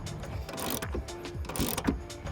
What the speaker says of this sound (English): This might be a little easier if you use a larger wrench